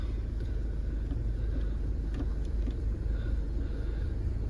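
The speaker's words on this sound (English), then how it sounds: "So just start the car up" A Mercedes-Benz GLA 220d AMG Line with a 2.1-litre diesel engine and 7G-DCT gearbox runs with a steady low rumble after a keyless start, close and continuous with a little wind noise over the microphone.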